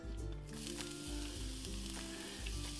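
Zoodles hitting hot coconut oil in a pan give a steady, close sizzle, with a few light stirring scrapes over the continuous frying hiss.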